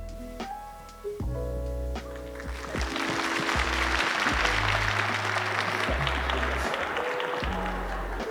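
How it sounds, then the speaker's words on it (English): Comedy show audience giving a light golf clap, a soft wash of scattered clapping rising under sustained musical tones and filling the middle of the clip before easing off. "Okay, a little golf clap, okay."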